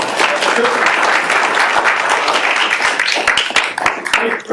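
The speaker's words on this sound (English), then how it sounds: "So big round of applause, please." Sustained applause fills a workshop on the human side of energy management, dense clapping from a room of attendees that holds steady throughout with some voices mixed in.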